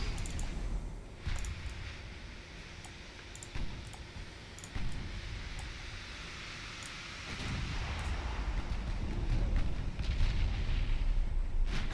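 Naval guns in Ultimate Admiral Dreadnoughts, with secondary batteries firing on a merchant transport: a steady rumbling wash of distant booms and crackling shell fire, swelling louder toward the end, with no talk.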